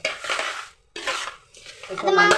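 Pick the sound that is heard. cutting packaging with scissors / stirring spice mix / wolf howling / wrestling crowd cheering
stirring spice mix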